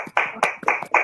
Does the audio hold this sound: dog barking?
no